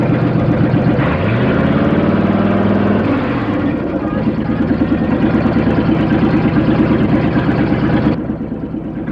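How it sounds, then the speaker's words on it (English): A Ford Mustang Cobra Jet with a 428 cubic inch (about 7-litre) engine idles loudly at a sprint event, a steady heavy rumble with a brief rising and falling rev early on before the sound drops off near the end. "The car's a Ford Mustang Cobra Jet. It's got a 428 cubic inch engine, which is about 7 litres."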